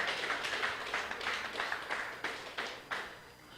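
Applause from a church congregation: scattered hand claps in uneven bursts, moderately distant and fairly quiet, with no voices over them.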